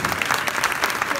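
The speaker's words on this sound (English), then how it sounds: "A round of applause, please." Audience applause at a London Build talk on architecture, a dense steady patter of many hands clapping throughout, fairly close and continuous with no speech.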